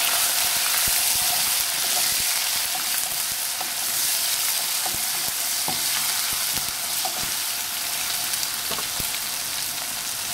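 Onions fry in a pan with garlic and ginger, hissing in a dense, steady sizzle close by, broken by occasional scraping clicks of stirring, with no one talking.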